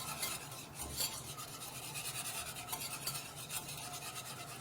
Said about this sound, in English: And you keep whisking really fast.